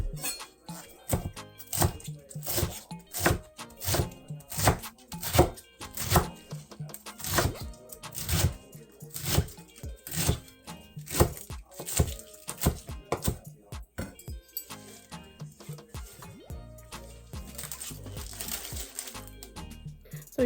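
A knife chops collard greens on a cutting board in a home kitchen, giving a quick, irregular run of close thuds and crisp leafy cuts that thins out toward the end.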